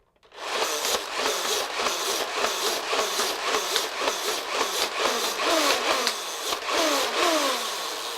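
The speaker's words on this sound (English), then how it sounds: "just pumping this thing back and forth, and that activates this flywheel in that red area right there. And it is going to be very loud" A Nerf Zombie Strike RevReaper blaster, pumped to spin its flywheel, whirs loudly and fires foam darts in a steady run of repeated sharp bursts over a continuous motor drone, close up.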